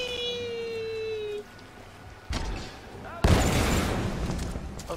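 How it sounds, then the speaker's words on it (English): Explosion in Tomb Raider multiplayer, a sudden loud burst that cuts in after quieter game ambience and a shorter thump, then rumbles on with broad noise. "I heard an explosion."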